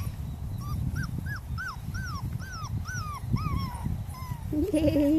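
Norwegian Buhund puppies, five weeks old, give a run of about a dozen rising-falling whimpers and whines in quick succession, close and clear over low rumbling handling noise, with a higher yip near the end.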